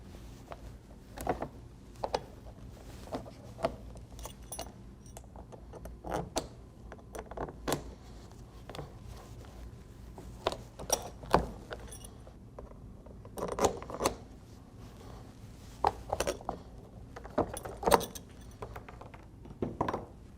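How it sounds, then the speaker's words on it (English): Bolt breakers snap excess bolts on a Flexco rip repair lace for black conveyor belting, giving a run of sharp, irregular metallic clicks and cracks with short creaks between them, close and fairly quiet against a still background. "To break the bolts, use the corresponding bolt breakers for the fastener size selected."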